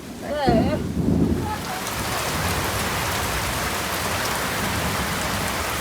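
Summer rain pours down steadily and close by, with a short burst of muffled voice-like sound at the start before an even, dense patter fills the rest.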